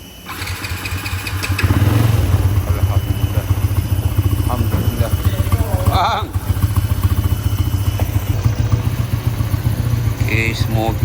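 A Yamaha LC V8 motorcycle with a new battery is started: a brief crank leads into a steady, loud idle with a dense, rapid exhaust pulse that carries on to the end, while someone talks over it at moments.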